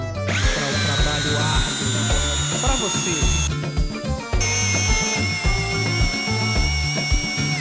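Bosch GCD cordless drill driver straining to drive a 300 mm screw, a loud, steady motor whine with a rapid rhythmic ratcheting clatter that continues throughout, shifting pitch briefly midway.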